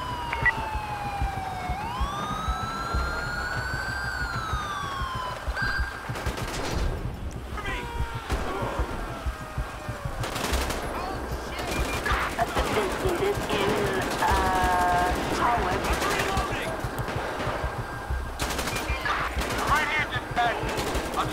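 Rapid bursts of gunfire crack through a police shootout in the game GTA V with the LCPDFR mod, repeated sharp volleys over wailing police sirens and engine noise, loud and close, with a hostage-rescue operation under way.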